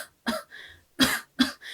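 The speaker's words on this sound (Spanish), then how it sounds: "puedo toser." Three sharp coughs, close and loud, separated by short pauses with a quieter throaty breath between the first two, from a singing teacher locating the diaphragm.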